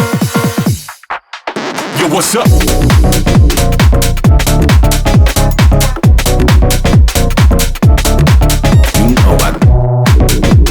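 A loud, fully mixed and mastered music track with a punchy, steady beat plays for about ten seconds after a brief spoken greeting and a short pause.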